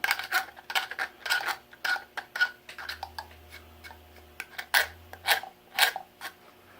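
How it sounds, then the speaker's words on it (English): A wooden Winchester 1887 buttstock under repair is scraped close up in a quick, uneven run of short rasping strokes, with brief pauses between them. "Usually I just scrape this a little bit."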